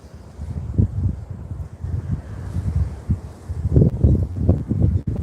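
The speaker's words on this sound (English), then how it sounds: "Yeah, it's very windy." Strong wind buffeting the microphone in low rumbling gusts, loudest toward the end, with no voices.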